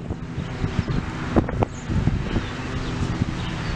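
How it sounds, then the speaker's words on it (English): Gusty wind outside a brick ranch house in Tipp City, Ohio buffets the microphone in uneven rumbling bursts, with a constant low roar and occasional sharper thumps. "It's a little bit windy today."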